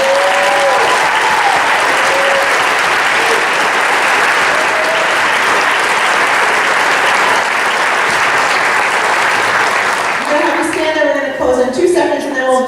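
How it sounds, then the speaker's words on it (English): A large crowd applauds steadily and loudly for about ten seconds at an honors reception before the clapping thins out and fades. "Let's give them all a great round of applause."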